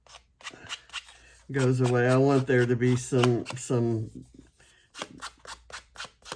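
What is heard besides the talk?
scissors distressing paper edges for scrapbooking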